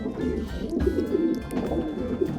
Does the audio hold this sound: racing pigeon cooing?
yes